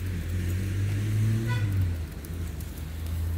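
A car drives past on a road near an outdoor cauldron where black mulberry molasses is being cooked, a rising and fading engine rumble with a brief horn-like tone in the middle, no voices.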